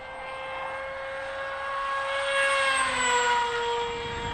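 A blunt-nose Teksumo RC plane cruises at half throttle, its electric motor giving a steady high whine that swells slightly as it passes nearer, then eases off.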